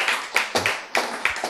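Clapping from a church lecture audience in Korea: a short burst of sharp, evenly spaced claps, close and fairly crisp, with no talking over them.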